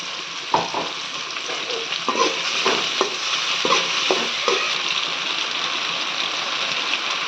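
Ginger garlic paste, ground with black pepper and fennel, fries in a pan for a country chicken gravy: a continuous close sizzle broken by several sharp spatula clinks and scrapes against the metal.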